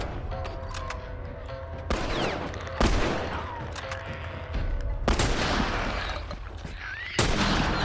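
Rifle gunfire in The Last of Us video game, with several sharp, loud shots spaced irregularly over a noisy combat background.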